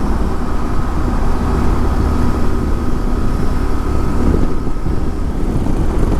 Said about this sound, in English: This is the Lorca tunnel, which goes underneath the castle.